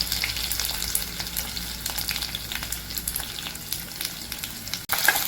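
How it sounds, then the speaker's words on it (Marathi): Green chillies, curry leaves and finely chopped ginger sautéing in a pan, a dense, continuous hiss of frying with scattered crackles and one brief gap near the end, no voices. "हे छान परतून घेऊ"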